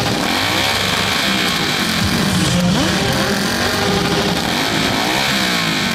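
Motorcycle engines roar continuously at a bikers' festival loudness contest, loud and close. The dense mechanical roar is broadband, with rising and falling revs and no clear talking.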